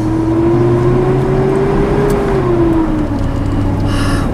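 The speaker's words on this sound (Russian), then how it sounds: "Okay, I'm starting to drive." Car pulling away and starting to drive, a steady engine drone with a slowly rising then falling whine, heard from inside the vehicle without talking.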